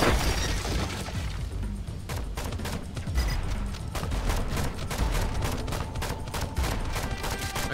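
Turret gunfire in the zombie video game Dead Island Epidemic: a dense, continuous fusillade of rapid shots and booms, loud and sustained throughout with no pauses.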